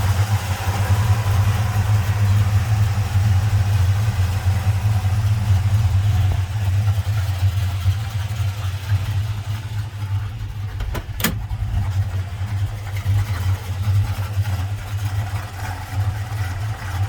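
A 1966 Chevrolet Impala's 327 small-block V8 idles close by, a deep, low rumbling burble holding even for the whole stretch, with a brief click midway.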